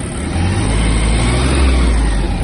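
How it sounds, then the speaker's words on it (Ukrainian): A Mitsubishi GS-250 mini tractor engine runs loud and close with the throttle opened, a sustained droning rev that swells slightly while the PTO-driven blades spin, with no talking. "Якщо додамо газу, ножі почнуть крутитись швидше."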